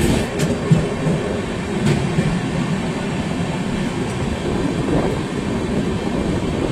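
Sealdah to NJP Darjeeling Mail train running at speed at night, a loud continuous rumble and rattle of wheels on rails with faint clicks and squeals throughout.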